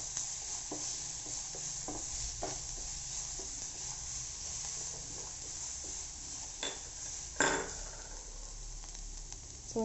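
Grated carrot and ginger sauté in a pan for lemon rice, a soft steady sizzle broken by occasional scrapes and clinks of a metal spoon against the pan.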